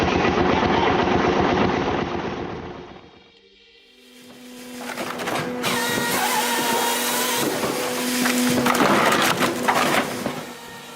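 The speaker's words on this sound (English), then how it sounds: "This wood processing machine is a game changer in the industry." A firewood processing machine runs with a loud mechanical engine drone; the sound briefly dips away, then returns with whining, grinding and knocking as the wood is worked, no voices.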